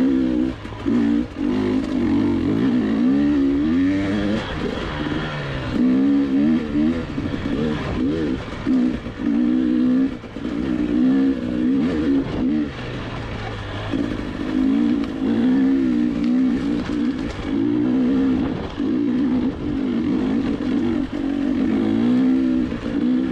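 A GasGas EC300 two-stroke dirt bike engine revs and bogs continuously along an intermediate singletrack trail, loud and close, rising and falling with throttle changes throughout.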